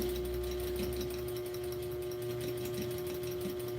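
A sewing machine stitches slowly over fabric with little seed beads underneath, giving a steady, even mechanical hum with a faint rhythmic patter throughout and no talking.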